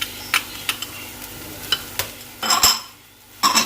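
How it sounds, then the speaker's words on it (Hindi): Vegetables with capsicum for spring rolls cook briskly in a pan, giving a close sizzle broken by sharp utensil clinks and scrapes as they are stirred. "पहले सब्जियों को सिर्फ 2 मिनट के लिए हमने पकाना है, इससे ज़्यादा नहीं पकाना, ताकि क्रंची क्रंची रहे।"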